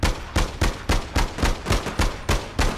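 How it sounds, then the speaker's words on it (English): Rapid gunfire in the online game APB: Reloaded, a steady rhythm of about a dozen sharp, evenly spaced shots fired in quick succession, loud and close. "He's even shooting at me."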